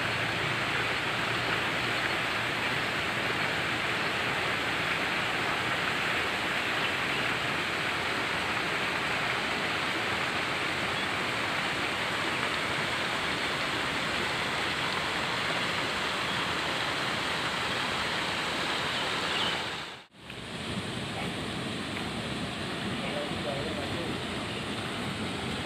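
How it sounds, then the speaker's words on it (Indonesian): A small, clear waterfall beside the gate of a mountain hiking trail on Gunung Slamet makes a constant broadband roar of falling water. It holds steady for the whole stretch, with only a brief dip near the end. "Di samping kiri dari gerbang pendakian ini terdapat air terjun yang tidak begitu besar, namun airnya sendiri cukup jernih"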